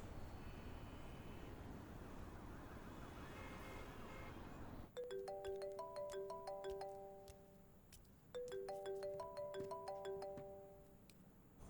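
A mobile phone ringtone plays a bright, chiming electronic melody twice in a row. It cuts in over low background hum in a Tamil-dubbed film scene, clear and fairly close.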